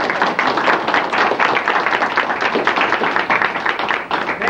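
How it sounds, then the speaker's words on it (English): An audience at a community gathering in Rensselaer giving a sustained round of applause, dense and steady clapping for several seconds, close and loud. "we ought to have a round of applause for Beulah and Helen and the rest of the people who made this thing possible"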